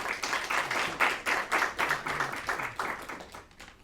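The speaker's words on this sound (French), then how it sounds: "qu'on applaudit bien fort" Indoor applause at a book presentation, a small crowd clapping in quick, fairly even bursts for about four seconds, close and moderately loud, fading slightly at the end.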